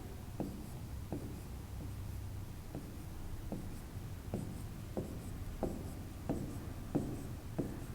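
A pen writes the number 1 on paper in a sequence of short, distinct strokes for a fourth-grade math exercise. The scratches come about once per second, close and quiet, with no talking.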